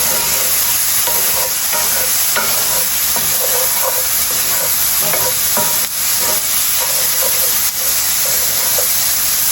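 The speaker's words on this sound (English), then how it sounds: "Okay, I'm gonna add the ham in. Give that a little mix." Ham is stirred and heated in a hot frying pan with other omelette fillings, making a loud, constant sizzle and hiss with scattered light scrapes and clicks from the utensil. There is no talking.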